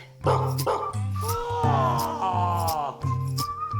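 A cartoon dog in a children's animated delivery show barks in loud, clear, repeated yaps with short whimpering tones, close and prominent in the mix.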